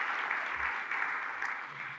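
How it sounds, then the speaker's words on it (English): A conference audience claps for faculty and support staff at an opening session, a brief, moderately faint patter of applause that holds steady and starts to fade. "Can we give a round of applause for all of our regional and statewide faculty and support"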